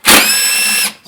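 Power drill driving out 8mm screws from the throttle assembly of a Ford 4.6L V8, a single loud, steady high whine lasting about a second with a sharp start and quick stop, heard close up and alone.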